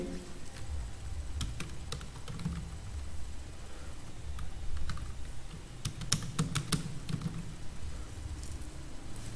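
Quiet, close computer keyboard typing while an online exam registration form is filled in, with irregular bursts of rapid key clicks and short pauses in between.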